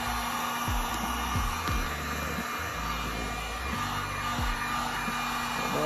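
A heat gun blasts hot air onto vinyl wrap during a chrome delete on a 2020 Ford F-350, a loud steady whooshing blower roar with a constant motor whine, punctuated by repeated low thumps.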